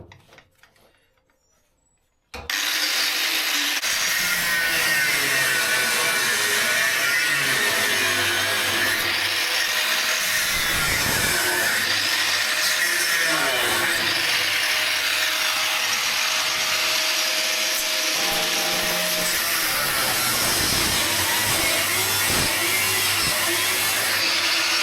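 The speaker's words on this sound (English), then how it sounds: "I had to cut all that out with the angle grinder because it was all bonded in" An angle grinder cuts through a bonded-in steel panel on a Ford Transit van, a loud, continuous abrasive whine that kicks in after a brief near-silent start and runs steadily to the end, close and dominant with no talk.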